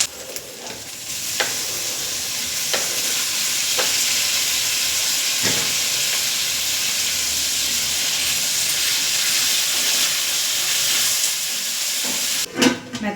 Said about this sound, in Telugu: వేసుకొని బాగా ఫ్రై చేసుకున్నంత వరకు ఉంచుకోవాలి.